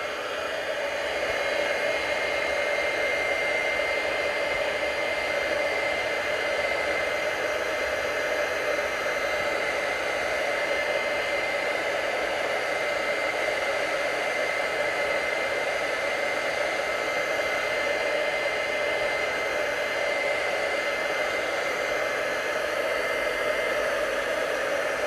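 A heat gun blows steadily and loudly throughout onto tissue paper on a stamp plate, a constant airy roar with no talking.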